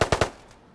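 Three quick gunshots ring out close and loud in DayZ Standalone, an evenly spaced burst followed by a fading tail.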